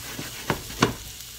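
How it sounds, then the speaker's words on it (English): Mushrooms go into a hot cast iron skillet used for cooking filet mignon, giving a faint, steady sizzle broken by three soft, short taps or thuds close by. "Let's get the mushrooms in there. Yep, there's a little sizzle."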